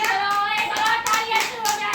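A few sharp hand claps at a family game during a home picnic, given as a playful punishment, sound over steady background music with no talking.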